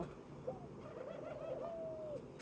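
A ringneck dove gives one soft, drawn-out coo, close and clear over a faint, quiet background.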